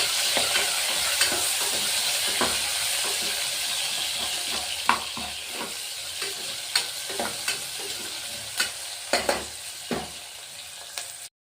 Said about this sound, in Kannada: ಈರುಳ್ಳಿ ಸಹ ಚೆನ್ನಾಗಿ ಫ್ರೈ ಆಗಲಿ